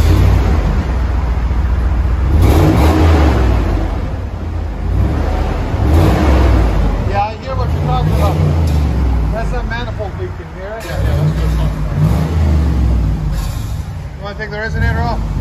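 A 2005 Dodge Dakota with a 4.7L V8 Magnum, dual exhaust and a Jones muffler replacing the factory muffler, resonator and tailpipe rumbles loudly and revs up and down close by, while people talk over the engine.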